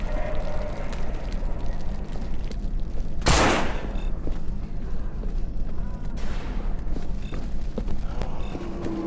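A single loud, sharp gunshot cracks out in the game No More Room in Hell, followed a few seconds later by a fainter second burst over a constant low background rumble.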